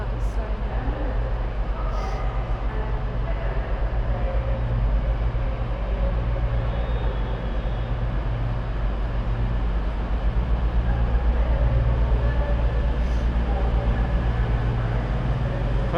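A steady low rumble of a train on the rails, with rhythmic clatter continuing throughout at moderate loudness; no clear change is audible.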